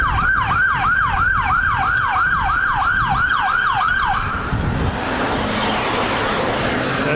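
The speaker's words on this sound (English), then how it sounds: "There's an ambulance coming." An ambulance siren wails in a fast, regular rising-and-falling cycle, loud and close as it passes a cyclist on a road near Bracknell, then cuts away into rushing traffic noise.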